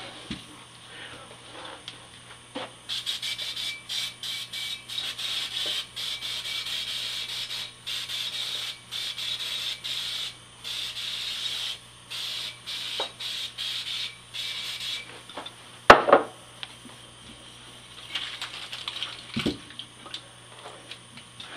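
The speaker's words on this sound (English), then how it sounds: "We're going to use up the rest of that spray." Steady hissing spray bursts in repeated pulses for several seconds, then sputters and fades, with a faint background hum.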